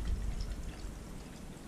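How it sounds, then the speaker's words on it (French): Water pours steadily into a container, filling it toward half a litre with a brief, close, continuous splashing rush that gradually eases. "de l'eau dans ce récipient, et je vais mettre un demi-litre"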